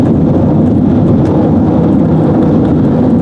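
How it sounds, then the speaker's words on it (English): Loud, steady broadband roar of tires on a rough stretch of Interstate 40 pavement heard from inside a moving car, constant and rumbling with no voices. "This is a very loud section of road all of a sudden."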